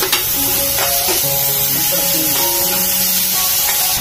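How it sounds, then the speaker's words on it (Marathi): Onion and tomato sautéing in a pan for a dry prawn curry, a loud, close sizzle with stirring scrapes and a few utensil clinks, steady for a few seconds with no speech. "आपण चांगलं परतून घेऊया आधी, कांदा टोमॅटो।"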